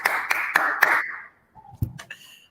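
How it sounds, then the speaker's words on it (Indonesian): Classroom applause from a group of students clapping hands during a peer-teaching lesson, a dense burst of claps lasting about a second before fading, followed by a few faint knocks and brief sounds. "Tepuk tangan"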